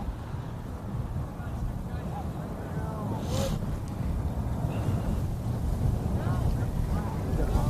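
Gusty wind buffets the microphone with low rumbling bursts, intensifying toward the end, while faint voices and a brief high squeak come through.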